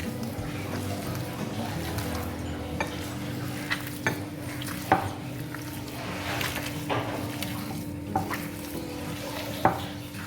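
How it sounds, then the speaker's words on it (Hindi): Beef mince mixed with oil is stirred in a pan for a kebab recipe, giving a steady soft sizzle and scraping with sharp, irregular clicks of the spoon against the metal every second or so, close up. "इसको हम अच्छी तरीके से मिक्स करते हैं।"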